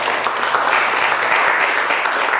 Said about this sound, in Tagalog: Bakit kayo pumapalakpak?